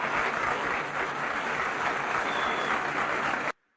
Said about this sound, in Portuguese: Cadê os aplausos aqui pra uma pessoa?